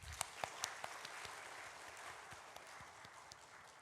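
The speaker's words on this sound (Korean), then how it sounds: "박수 한 번 더 합시다." Applause from a small church congregation during a Sunday afternoon service, a few sharp claps standing out at first, then a steady wash of clapping that gradually thins.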